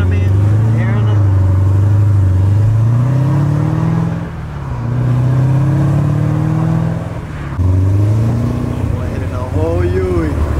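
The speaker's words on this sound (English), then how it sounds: "just seeing my car, the Shelby, just take off in front of me and hearing it" A tuned Shelby pulls away and accelerates hard nearby, its engine note rising through the gears in long, loud sweeps with brief dips at each shift.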